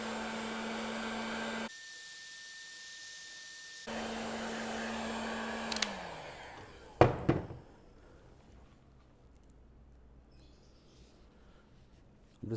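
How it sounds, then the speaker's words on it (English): A heat gun blows steadily, cutting out briefly and resuming, while shrinking heat shrink tubing during CNC machine assembly, followed by a few sharp knocks and a quiet room. "I'm using the heat gun just to shrink these tubes"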